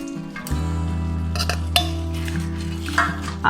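Fried small fish tipped into a pan of cooked bhindi, steady sizzle under a low hum, with metallic clinks and scrapes of utensil against pan at intervals.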